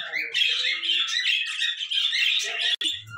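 Hagoromo budgies chirp and squawk in a dense, continuous chatter of close, bright calls that ends in a brief click and a low thump.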